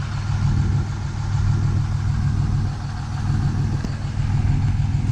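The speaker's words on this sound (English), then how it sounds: "Really nice truck. Just listen to that exhaust." A 2014 Dodge Ram 2500 with a six-speed manual, full aftermarket exhaust and tuning idles close by with a deep, steady low rumble that holds even throughout.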